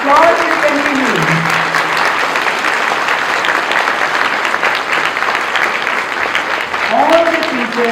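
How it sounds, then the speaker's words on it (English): Sustained, loud applause from an audience at a school stage musical of the Ramayana performed by kindergarten children, steady and dense throughout with a voice speaking faintly over the start and end. "the applause will continue"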